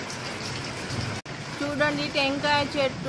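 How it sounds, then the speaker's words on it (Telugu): Steady rain falls during a windstorm at a house among coconut and fruit trees, a continuous close hiss with a person speaking over it partway through. "వర్షం పడుతుంది, గాలి వాన"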